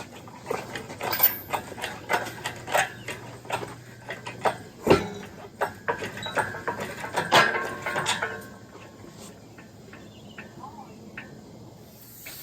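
Metal chain rattles and clinks against a push rod while it is lifted from a Detroit Diesel 4-71 engine during a teardown. The clanks come in a close, uneven burst over several seconds, then settle into quieter handling noise.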